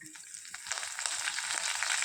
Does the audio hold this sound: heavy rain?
no